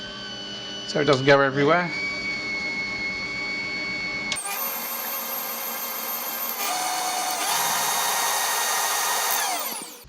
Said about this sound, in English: So in with the beater, and what we're going to do is slowly start this up